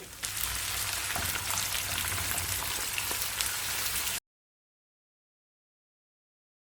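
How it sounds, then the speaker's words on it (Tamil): Chopped banana stem and curry leaves sautéing in a hot pan give a steady, dense sizzle that is close and fairly loud for about four seconds, then stops abruptly into silence. "ஒரு 2 நிமிஷம் வதங்கட்டும்."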